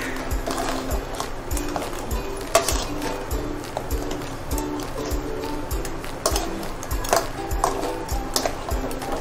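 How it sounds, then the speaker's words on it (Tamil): A ladle stirs crab masala curry with fresh coriander and curry leaves in a pan, making steady rhythmic scraping and knocking strokes, close and fairly loud, with no voices. "நம்ம எடுத்து வச்சுருக்க கொத்தமல்லி கருவேப்பிலையை சேர்த்துக்கலாம் சேர்த்து நல்ல ஒரு வாட்டி கிளறி விட்டுக்கோங்க"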